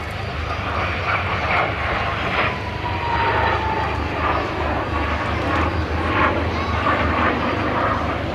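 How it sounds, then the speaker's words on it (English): An aircraft engine drones loudly as a plane flies past at the Barton Airshow, a sustained propeller roar with a slowly shifting pitch that swells and eases over several seconds. "This aircraft is flown by Mark Petrie"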